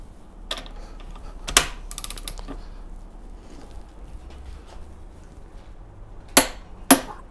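A bolt is torqued on a Toyota narrow e-series transmission with a ratchet, giving a few sharp metallic clicks and taps in separate bursts over low background noise, the last two louder and close.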